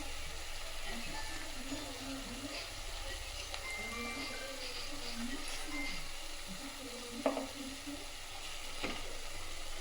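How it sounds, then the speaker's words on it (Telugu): Fish pieces sizzle steadily in a pan over a low flame, a soft continuous frying hiss with a couple of brief clinks partway through, with no voices. "ఇప్పుడు చేప ముక్కలు యాడ్ చేద్దాం. సిమ్లో పెట్టాను నేను."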